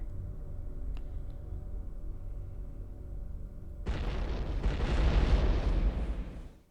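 Explosions from the X-COM Apocalypse video game: a quiet low rumble gives way, about four seconds in, to a loud, sustained broadband roar of blasts that swells and then fades out.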